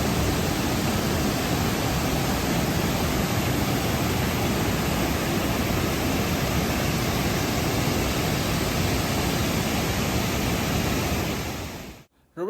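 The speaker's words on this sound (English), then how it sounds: "So I give to you, Roberto Barrios, Little Waterfall." Roberto Barrios Little Waterfall in Chiapas, Mexico, roars as a steady, loud, broadband wash of falling water close by, unbroken for about twelve seconds before cutting off abruptly at the end.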